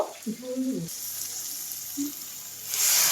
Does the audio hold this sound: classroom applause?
no